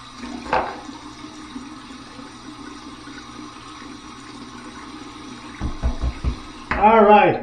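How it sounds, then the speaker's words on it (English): Tap water running steadily into a bathroom sink for a cold rinse after a head shave, a continuous near splash that swells and shifts near the end. "Cold water rinse."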